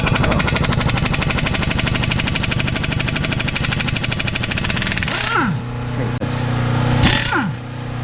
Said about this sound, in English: Now let's remove these 5 17mm lug nuts.